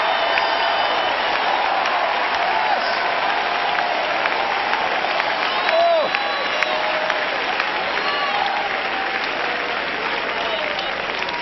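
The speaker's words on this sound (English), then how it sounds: "Clap again. Shout again." Church congregation at a 2005 service clapping and shouting steadily throughout, a dense roar of applause with cheering voices, loud and continuous.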